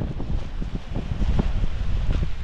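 Strong outdoor wind buffets the microphone in loud, uneven low rumbling gusts with a rustling texture, continuous and close throughout.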